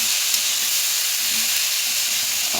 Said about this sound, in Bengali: এই সবজিটাকে একটু ভাজা ভাজা করে নেব।